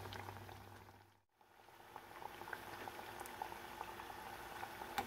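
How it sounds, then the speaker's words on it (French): Banana fritters deep frying in hot oil, a steady dense bubbling and crackle that briefly cuts out near the start, then resumes continuously, close and moderately loud with no talking. "On continue de frire pour quelques minutes."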